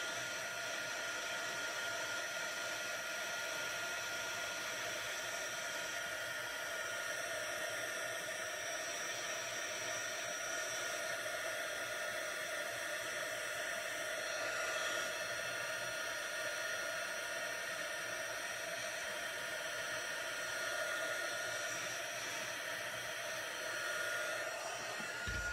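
A heat embossing tool blows in a steady, loud, unbroken fan-like whoosh while setting embossing powder on dark cardstock, running alone for a long stretch without speech.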